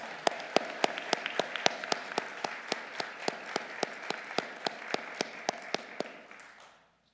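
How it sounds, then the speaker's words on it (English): Sparse applause from a small group at an honors convocation, individual claps standing out in a steady rhythm before fading away. "Let's give them a round of applause."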